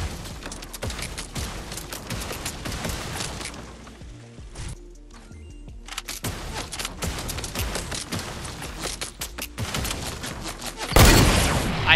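In Fortnite, an SMG fires rapid, crackling bursts of gunfire in quick succession. There is a brief lull midway, then a louder burst near the end, all over game ambience.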